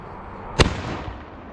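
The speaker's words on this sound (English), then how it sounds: "Those are some banging shells. Here's the first Anorak shell." An Anorak aerial firework shell at a New Year's display bursts with one sharp, loud bang, followed by a fading crackle in steady outdoor background noise.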